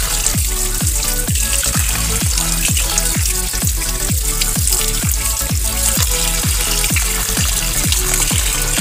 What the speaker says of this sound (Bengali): মাছগুলো আমি ভালো করে ধুয়ে নিয়ে নুন হলুদ দিয়ে মিশিয়ে রেখে দেব।